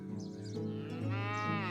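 Cattle in the medieval farming game Medieval Dynasty give a long, drawn-out moo that starts low and rises in pitch, close and clear, with no talking over it.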